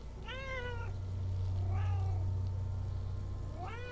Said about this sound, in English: I don't know if you guys can hear the kitty meows.